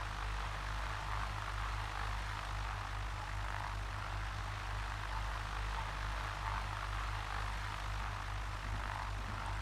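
Cessna 172 engine in the Prepar3d v5 flight simulator, a steady, even propeller drone with a deep low hum that holds unchanged throughout, moderately loud and with no talk over it.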